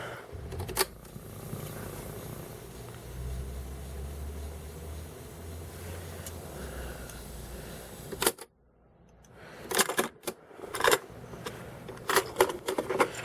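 A TEAC A-170S cassette deck under repair runs a Type 1 tape, giving a low mechanical whir with clicks and clunks, then after a brief drop to near silence, a burst of sharper rattling and clicking.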